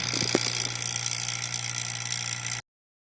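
A vacuum pump evacuates air from a vehicle's system with a steady mechanical whirring drone and faint rattling. It runs evenly for about two and a half seconds, then cuts off abruptly into silence.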